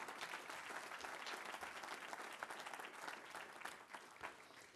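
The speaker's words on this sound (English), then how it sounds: "Let's have a large round of applause for our candidates" Sustained applause from a sizable audience at a mayoral candidate forum in Naples, dense and even, continuing steadily throughout.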